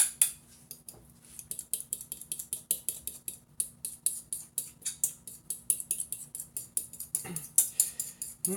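A fork clinks and scrapes against metal baking pans while banana bread is being made. The taps are quick, light and rhythmic, fairly close and quiet, and keep going for several seconds without any talk.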